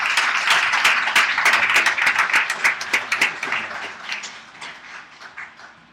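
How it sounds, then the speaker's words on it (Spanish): A church congregation applauding the Lord and the pastor at a Spanish-language service: dense, steady crowd clapping that stays loud, then thins and fades near the end. "Denme un aplauso al Señor y al pastor."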